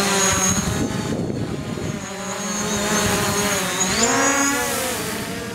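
A DJI Mavic Pro drone flying fast and banking through a turn in sport mode, a loud, continuous whine with harmonic tones that glide upward and back as the motors change speed, no speech.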